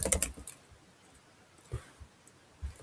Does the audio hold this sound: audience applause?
no